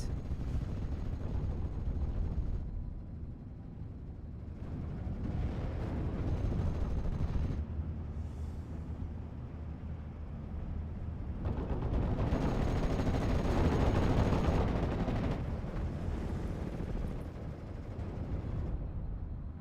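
Anti-aircraft gunfire in a World War II strategy video game rattles in long, dense bursts that swell and fade, layered over a constant rumble of distant battle and explosions, with no voices.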